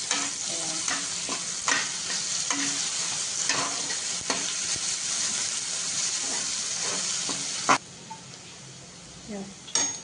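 Onion and garlic frying in a pan for a soyabean fry, with a steady close sizzle and regular stirring scrapes for several seconds, after which the sound drops quieter near the end.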